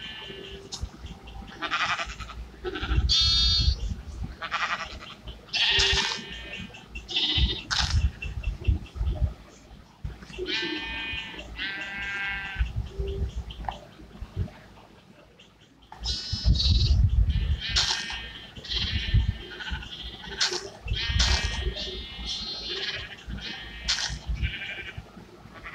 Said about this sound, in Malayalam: ഇത് ആട്